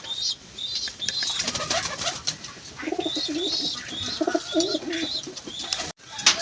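Pigeons coo in repeated low, throaty phrases while bathing, with wing flaps and splashing bursts and a few higher chirps mixed in, close and fairly loud throughout.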